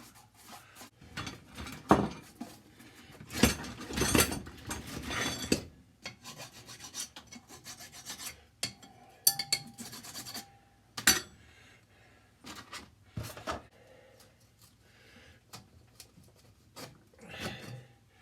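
Scraping an old gasket off a Cat 60 engine cylinder head by hand, heard as irregular bursts of close, raspy scraping strokes separated by brief pauses, with no talk.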